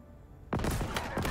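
Turret gunfire in Halo: a sudden loud burst begins after a brief quiet lull, followed by a rapid sequence of heavy booming shots with sharp repeated peaks.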